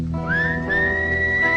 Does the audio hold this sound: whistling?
yes